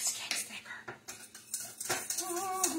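A whisk scrapes and clinks through white sauce thickening with milk in a pan, quick metallic taps and swishes at close range, with a voice talking softly partway through.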